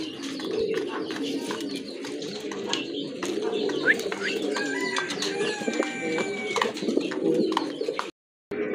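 Dragon and Beauty Homer pigeons coo softly in low, rolling murmurs amid other bird chirps, fairly close, continuing throughout with a brief dropout near the end.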